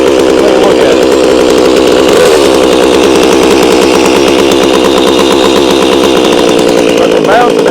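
Stihl MS362C chainsaw fitted with a barkbox muffler idling close by, a loud, steady, rattling engine drone that continues without a break.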